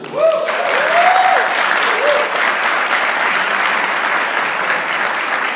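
An audience applauds loudly, dense clapping sustained throughout, with a voice briefly calling out at the start.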